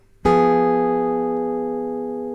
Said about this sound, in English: Let's have a listen to what that diminished chord sounds like when played on the